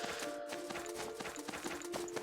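Horse hooves clip-clop in a steady, even rhythm in the video game Death's Gambit, close and continuous over a sustained musical background.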